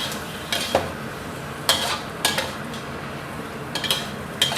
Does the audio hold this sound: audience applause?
no